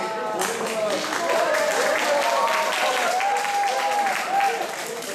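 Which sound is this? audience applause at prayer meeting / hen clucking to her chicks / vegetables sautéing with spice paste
audience applause at prayer meeting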